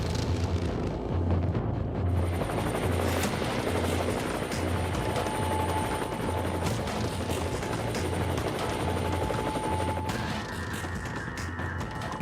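An HAL Rudra armed military helicopter drones loudly and close throughout, its rotor blades thumping in a steady rhythmic beat under a constant whining turbine.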